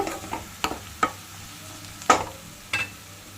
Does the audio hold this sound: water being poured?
no